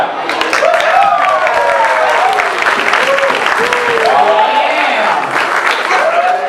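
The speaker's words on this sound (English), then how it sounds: "Clap." Loud audience clapping fills a room at an anniversary tribute celebrating 15 years of the jams, a dense, sustained roar of hands with voices calling and cheering over it throughout.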